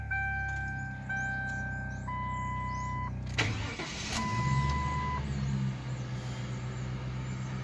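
A 1999 Lincoln Town Car with about 152,000 miles starts up outdoors: a series of steady chime tones, then the starter cranks briefly and the engine catches into a loud, rumbling idle close to the microphone.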